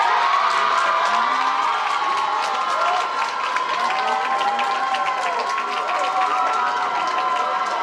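Audience at a Texas team awards ceremony cheers and whoops loudly and steadily throughout, a dense crowd roar with scattered shouts and some clapping.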